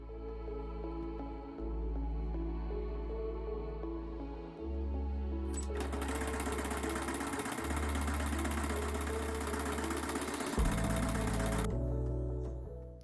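A sewing machine stitching fabric pieces together for a twisty crop top, a steady droning motor hum that rises into a loud buzzing run of rapid stitching for several seconds, then settles back to a lower whir.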